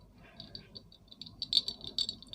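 Ice cubes rattle in a container that holds ice and water, in quick irregular clinks and taps, close and fairly faint, growing busier toward the end, with no talk.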